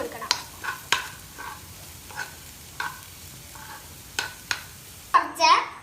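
Green chilies stirred in a frying pan during a children's cooking competition, with scattered scraping strokes and clinks against the pan over a low sizzle, a voice speaking briefly, and a louder clatter at the end.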